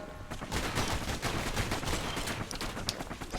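Enemy gunfire from the video game Bastion comes as rapid, dense bursts of repeated shots. The shooting is loud and sustained throughout, with no one speaking over it.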